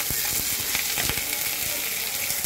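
Green chillies frying in a pan with mustard-paste cooking, a steady hiss of sizzling oil with soft clinks and scrapes as the pan is stirred, close and continuous.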